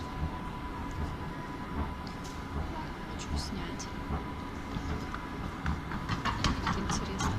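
Double-decker regional commuter train near Dresden, Germany, approaching a station with a steady low rumble and squealing, clicking wheels growing louder, while a person speaks briefly nearby.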